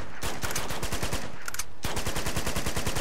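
Rapid automatic AK rifle fire in Uncharted 2: Among Thieves, with loud, evenly spaced shots in sustained bursts and a brief pause between strings.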